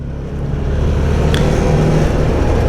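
A Can-Am Maverick Trail 700 side-by-side cruises at easy speed on town asphalt, its engine a steady close drone with a low rumble and tire noise, loud and continuous without speech.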